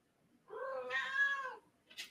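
A cat lets out one long, rising-and-falling meow close by in a quiet room, followed by a brief noise at the end; no one speaks.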